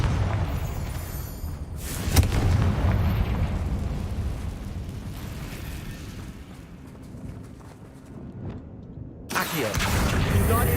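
Confringo fire spell explosions in the Hogwarts Legacy video game: loud booming blasts at the start, near the two-second mark and again near the end, with a rumbling roar sustained between them and no talk.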